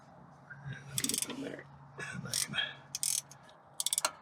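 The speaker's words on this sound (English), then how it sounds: "So now I can get in here with the ratcheting wrench." A ratcheting wrench turns a long engine mount bolt on a Ford C-Max, giving short close bursts of quick clicking with pauses between strokes.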